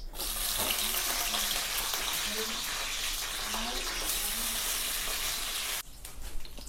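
Green chillies fry in hot oil with a dense, continuous sizzle that runs for several seconds, then drops away sharply near the end, leaving a few faint knocks.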